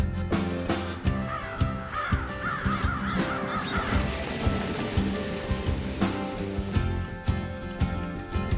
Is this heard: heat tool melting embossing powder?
no